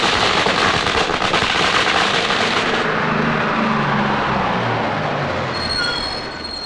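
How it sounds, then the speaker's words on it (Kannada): A dense string of firecrackers bursts in a rapid, loud crackle for a few seconds, then gives way to a rougher, fading rumble. "ಪಟಾಕಿ ಎಲ್ಲ ಹೊಡೆದಾಯ್ತಾ?"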